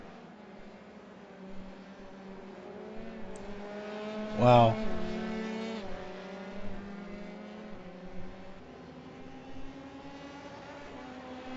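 Race cars in a British Grand Prix sim racing league cross the finish line, engine tones rising and falling in a quick pass under steady excited commentary, with one loud burst near the middle.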